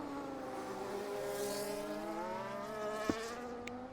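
Race cars heading out on track at the Italian Grand Prix in a racing game hold a steady, whining engine drone with shifting pitch, moderately distant and continuous, with no talking.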